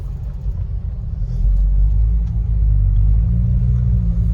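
An automatic car with a gearbox indicator error runs during a test, its engine giving a close, low rumble that swells and then holds steady.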